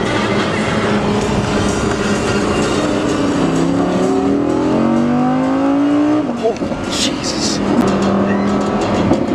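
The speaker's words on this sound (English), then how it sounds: "Oh, all that engine noise behind your head." An Audi R8 engine revs hard behind the seats, heard from inside the car on a ride-along at a Cars and Coffee meet. The loud, rising engine roar climbs in pitch and then drops off, and a passenger briefly exclaims over it.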